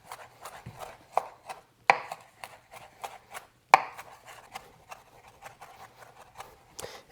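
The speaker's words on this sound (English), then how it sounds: "we just want to run that through the parsley until it's very finely minced" A kitchen knife rapidly mincing fresh parsley on a cutting board, a fast, close series of crisp chopping taps with a few heavier knocks, without any talking.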